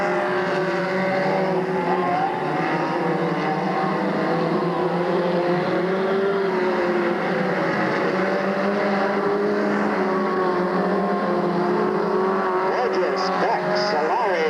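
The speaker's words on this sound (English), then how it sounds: "And Solari having a battle up here for that number 1 spot, side by side, rubbing their spinders" Stock cars race side by side at Delta Speedway in 1997, their engines a loud, continuous roar of layered, wavering tones that rise and fall as the pack runs close, with commentary underneath.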